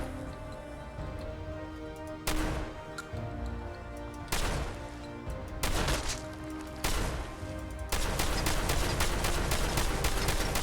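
Shotgun loaded with dragon's breath rounds in the game Fallout 4, firing five sharp, booming shots at irregular intervals of about two seconds over a steady ambient game background, with no talking.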